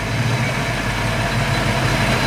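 A restomodded 1965 Mustang coupe with a late-model 5.0 liter V8 idles in a steady, low, rumbling hum that stays even and fairly loud for the whole stretch, with no voices over it.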